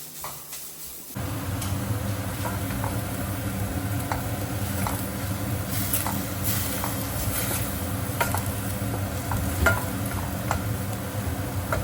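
Seafood frying in a pan with curry leaves, a dense continuous sizzle and crackle that starts abruptly and stays steady, with faint ticking pops and no talking.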